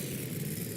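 A monster truck engine at a Monster Jam show in Berlin rumbles steadily with a deep, loud, continuous drone as the truck drives back to the pit, with no talking over it.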